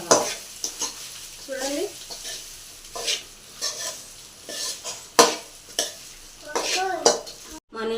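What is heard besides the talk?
stirring and frying leftover rice in a pan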